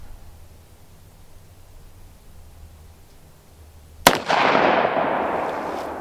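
A single sharp .45 Colt revolver shot cracks out after several seconds of quiet outdoor background, followed by a loud, lingering rumbling echo that slowly fades.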